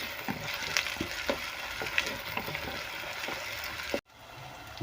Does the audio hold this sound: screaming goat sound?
no